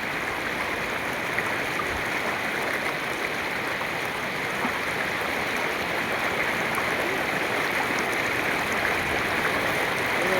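A flooded river rushes past in a continuous loud broadband roar, steady and unbroken throughout with no voices.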